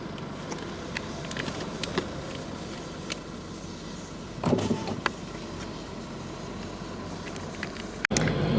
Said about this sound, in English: Lots of traffic.